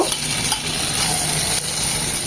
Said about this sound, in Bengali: এখানে এক চামচের মতো তেল রেখেছি ক্যাপসিকামটা হালকা একটু ভেজে নেব